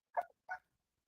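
A dog barks twice in quick succession, two short sharp yaps close to the microphone, then falls silent; nobody talks.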